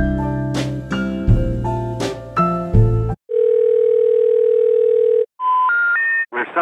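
A phone call placed to a number not in service: a loud sustained tone, then the rising three-note intercept signal, preceded by clattering tones and followed by the start of a recorded announcement.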